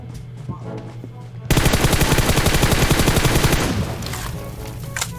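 Automatic gunfire from the video game Free Fire erupts suddenly and loudly as a long rapid burst, then trails into scattered shots, with quieter game sounds beforehand.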